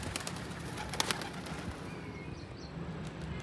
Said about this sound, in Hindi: ये देखें देखते हैं मेरे कितना अच्छा माशाल्लाह कबूतर हैं जी